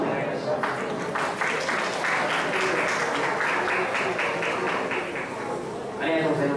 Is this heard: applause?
yes